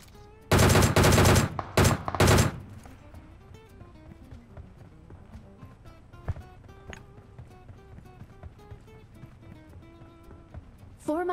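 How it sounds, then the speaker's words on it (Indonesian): Gunfire in PUBG comes from outside the zone as a tight cluster of loud rapid shots early on, then fades to quieter in-game ambience with faint clicks and tones. "nembak dari luar zona aja"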